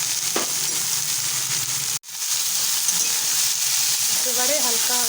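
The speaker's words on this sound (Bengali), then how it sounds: "কেটে রাখা সবজিগুলোকে ভেজে নেব।" Chopped vegetables fry in a hot oiled pan with a steady, close sizzle throughout, briefly cut off midway, with light stirring scrapes near the end.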